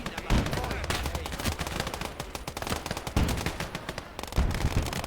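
A machine gun fires long bursts at Soviet troops in a Finnish-side defense battle in a video game. The rapid, dense clatter mixes with other gunfire and explosions, with faint talk underneath.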